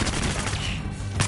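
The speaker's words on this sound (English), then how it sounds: "Okay, now shooting!" Gunfire in the video game Battlefield Hardline comes as a rapid, dense burst of shots that fades briefly, then a final loud shot.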